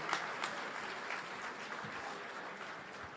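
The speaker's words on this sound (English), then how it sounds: "Let's give a big round of applause to all these champions." An audience at the USAC National Series awards banquet applauds the champions, a steady wash of hand clapping from a crowd in a hall, moderately loud throughout with no clear voices.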